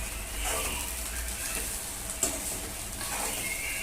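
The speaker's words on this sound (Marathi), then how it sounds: "आपण आता झाकण काढूया, मिक्स करून घेऊया।" Sushila, a puffed rice dish, is stirred and mixed in a pan over a low, steady sizzle, with soft scraping strokes and a couple of sharp clinks from the spoon against the pan.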